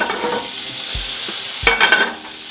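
Butter sizzling in a frying pan heated to 200 degrees, a steady close hiss with a couple of low knocks and a brief clatter of the pan or utensil, no voices.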